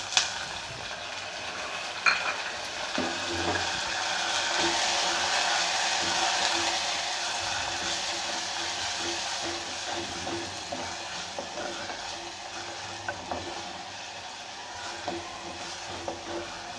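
Ground onions fry and are stirred in a pan while a Tamil anchovy fish curry is cooked. A steady, loud sizzle with scraping and stirring runs throughout, with no talking.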